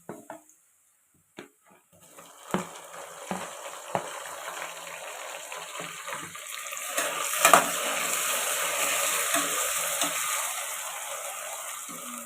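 Tomatoes drop into frying masala in a pan for mutton biryani. After a few quiet knocks, a loud sizzle erupts and keeps hissing steadily, with stirring scrapes on top.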